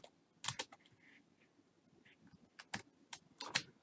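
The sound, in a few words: typing on a computer keyboard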